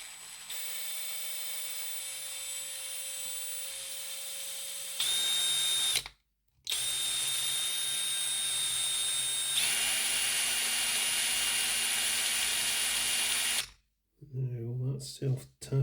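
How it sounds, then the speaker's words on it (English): A power drill whirs steadily at close range drilling a hole in a model train's bogie frame, with a high whine that cuts out briefly twice before ending in a short mechanical clatter. "We want to drill a hole in the middle of that bogey frame."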